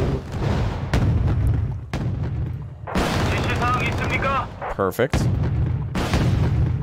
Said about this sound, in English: Let's go ahead and see if we can get the Congos to fire their ASMs.